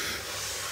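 A slow, deep inhale during a guided meditation breathing exercise, a steady airy hiss held evenly and close up, with no talking over it.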